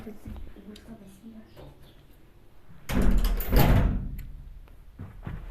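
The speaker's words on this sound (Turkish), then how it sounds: "Kapıyı kapatalım." A door closes with a loud rushing thud in the Block Crazy video game, heard after quiet talk and lingering briefly before another softer knock at the end.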